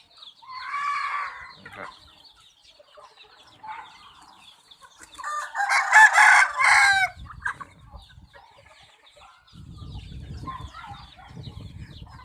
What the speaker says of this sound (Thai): ไก่งอนสวยๆนะครับ แม่พันธุ์แม่พันธุ์นะครับ